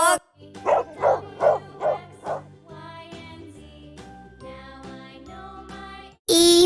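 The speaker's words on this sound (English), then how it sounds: "D for dog." A dog barks about five times in a steady rhythm over soft tinkling music, followed by a short loud burst at the end.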